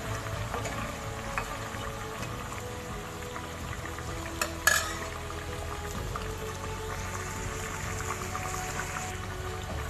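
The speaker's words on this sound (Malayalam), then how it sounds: "പ്രോൺസ് ഞാൻ ഇട്ട് കൊടുത്തിട്ടുണ്ട്. നന്നായിട്ടത് ഫ്രൈ ആയി വരുന്നുണ്ട്." Prawns frying in hot oil, a continuous crackling sizzle with scattered pops and one sharp clatter midway, no talking.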